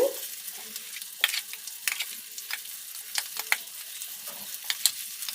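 Cumin seeds, garlic and curry leaves crackle in hot oil, a sharp spitting sizzle with scattered pops and scraping stirs, close by and without speech.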